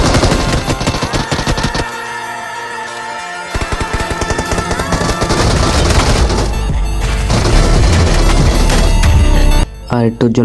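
Bursts of automatic gunfire and booms from enemies in PUBG Mobile near a Buggy apartment area, loud and dense, layered with game music and talking.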